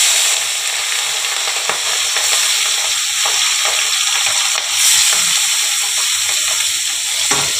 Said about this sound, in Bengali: আমি কড়াতে তেল দিয়ে দিয়েছি, এবারে মাছগুলো ছেড়ে দেব।